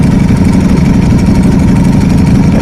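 A Ducati Desmosedici motorcycle with a GP7 exhaust and carbon wheels idles up close, a loud, steady, deep engine rumble that holds unbroken throughout.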